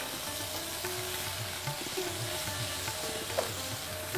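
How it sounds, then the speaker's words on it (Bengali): Singara filling of peanuts and garam masala fries in a pan, giving a steady, fairly quiet sizzle with a few soft stirring scrapes and taps throughout, no voices. "এটা পুরটা আমরা অতক্ষণই ভাজবো যতক্ষণ না এটাতে ভাজা গন্ধ আসছে।"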